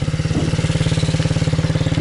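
A nearby MRF motorcycle engine runs with a steady, rapid thumping beat under a gentle throttle during a riding lesson, holding an even pace throughout with no voices.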